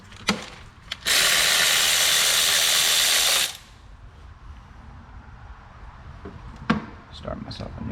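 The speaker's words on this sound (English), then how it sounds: "let's go ahead and start removing the 12mm bolts for this little metal plate thingamajig right here." A power tool loosens 12mm bolts from a small metal plate on a Subaru Tribeca engine during valve cover gasket work, giving one loud harsh burst of about two and a half seconds between quieter clanks and shop noise.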